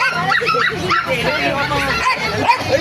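Puppies, including poodles, yipping and barking at a pet stall in the Bocaue tiangge market, with small repeated barks and whimpers mixed into busy crowd chatter and nearby talking.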